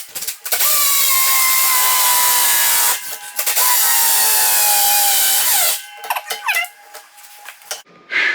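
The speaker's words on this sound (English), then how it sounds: "We started drilling that with the little cordless Milwaukee" A cordless Milwaukee drill bores steadily into metal stair stringer work, a loud high whining grind that runs for several seconds, pauses briefly, then resumes and winds down with ratcheting clicks.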